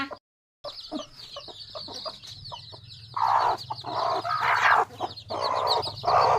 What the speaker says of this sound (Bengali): দেখো দুটো মুরগি। দেখো কত সুন্দর লাগছে, কি সুন্দর সাদা কালা।